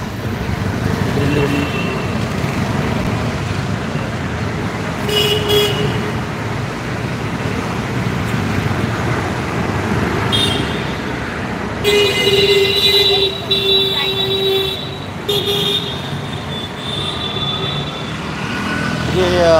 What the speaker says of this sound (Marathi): अशा भरधाव वेगाने गाड्या येत असतात.